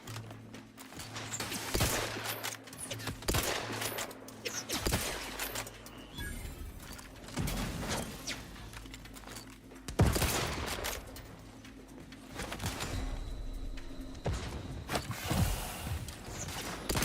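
Shotgun gunfire in the video game Outer Worlds 2, sharp blasts arriving in irregular bursts amid a busy mix of clattering, mechanical clicks and fight noise, some shots much louder than others.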